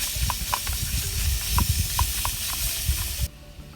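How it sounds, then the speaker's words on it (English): Beef frying in a small camping pan over a stove, giving a close, steady sizzle and crackle with scattered pops and light stirring scrapes, ending abruptly. "I'm going to fry up the beef in my little pan here."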